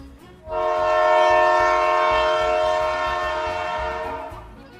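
A train sounds its horn at close range, one long, loud, sustained blast over the rumble and clatter of the passing cars, fading slightly toward the end.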